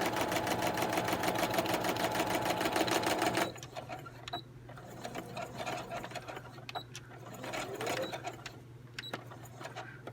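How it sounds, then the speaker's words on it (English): A sewing machine stitching across the bottom of a paper envelope, a fast mechanical whir running steadily for about three seconds, then stopping, leaving quiet handling rustles and small clicks. "So you might as well just sew across the bottom."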